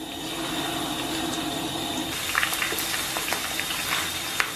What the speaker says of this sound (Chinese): 咱们把洋葱冷油下锅，